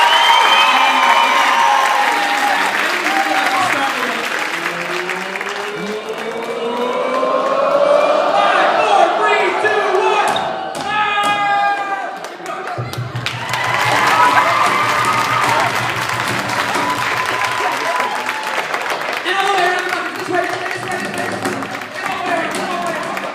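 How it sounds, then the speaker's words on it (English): Audience at a youth percussion ensemble's drum-solo concert in Bel Air, Maryland breaks into sustained applause and cheering, loud and steady across the whole stretch, with voices and shouts mixed into the clapping. "So can you get some applause started?"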